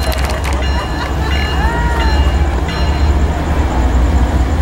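A BNSF freight train passing through Fullerton at night, heard as a steady, loud rumble of rolling cars with a horn sounding near the start, continuous throughout with no talk over it.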